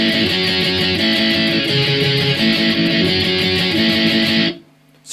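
Fast distorted electric guitar chugs through the verse of a song, steady driving strummed rhythm, loud and close, cutting off abruptly near the end.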